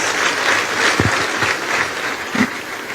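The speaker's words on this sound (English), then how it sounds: "Please give them a round of applause." Audience applause at an economic and investment summit in Delta State, steady clapping throughout three seconds with a few sharper claps standing out from the crowd.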